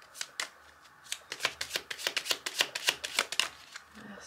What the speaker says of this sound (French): je vais vous prendre une dernière carte dans ce jeu là